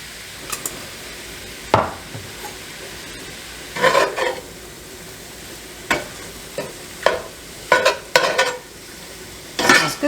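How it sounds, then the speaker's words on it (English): Ground turkey with garlic powder and cumin cooks in a pan, a soft steady sizzle beneath repeated scraping and stirring knocks of a utensil against the pan, roughly a dozen irregular strokes, close and quiet with no talking. "Cook this until the turkey is all white."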